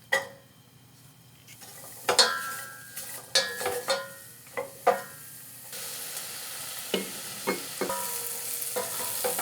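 Finely diced red onion sautéing in a pan, with a soft sizzle under repeated clinks and scrapes of a utensil stirring against the pan, close and without talk.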